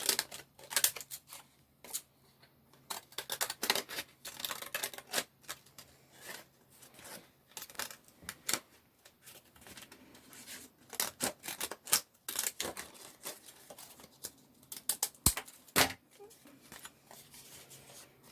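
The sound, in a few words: scissors cutting paper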